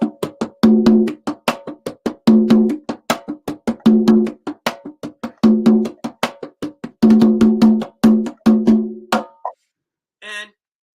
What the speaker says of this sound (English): The conga drum sounds like this.